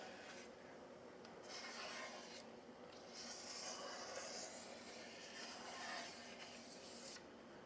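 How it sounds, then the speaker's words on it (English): A razor blade scraping excess ink off a UV printer table: repeated close, raspy scraping strokes with brief pauses between passes, steady and fairly quiet. "it's as simple as taking a razor blade and scraping up"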